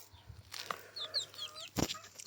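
Chickens cluck and chirp softly around a black cuckoo rooster in a farmyard, with a few short calls and rustling scattered through a quiet background.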